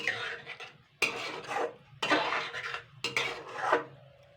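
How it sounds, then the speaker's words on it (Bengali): Fish egg chilli with curry leaves and white sesame being scraped from a pan onto a plate, with three distinct bursts of metal scraping and clattering about a second apart, close and fairly loud. "এবার আমি একটি প্লেটে ঢেলে নেবো এগুলো।"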